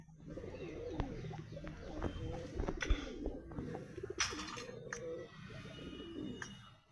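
A Naptा pigeon coos among other birds, its low rolling calls repeating at a moderate distance over faint background chirps and scattered clicks, with no talking.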